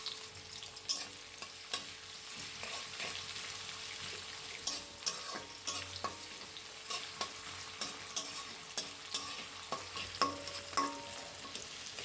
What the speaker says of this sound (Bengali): জিরার সুন্দর ফ্লেভার ছড়ালে কেটে রাখা পেঁয়াজ কুচি ছেড়ে দিলাম।